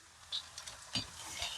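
Pressed plantain slices frying in hot oil in a pan, a soft steady sizzle with faint scrapes and clinks from the pan, quiet and close, no talking.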